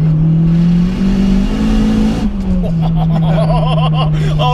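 A turbocharged 370 bhp EP3 hot hatch with a loud aftermarket exhaust revs on light throttle, a steady droning engine note that wavers and shifts partway through, close and loud, with an excited voice talking over it.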